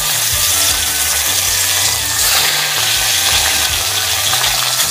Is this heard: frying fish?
yes